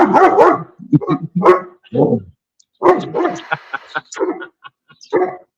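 A dog growls and barks in short bursts, close and loud, mixed with yips and whimpering noises, while people talk around it.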